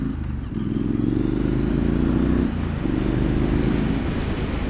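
Triumph Street Scrambler motorcycle cruising along Redwood Road, its engine a steady loud low rumble with slight pitch shifts throughout, no talking.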